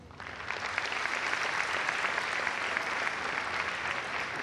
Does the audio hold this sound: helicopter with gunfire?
no